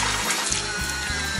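Water splashes and gushes continuously during deck cleaning, a close, steady wash with a few pulsing surges over about a second and a half.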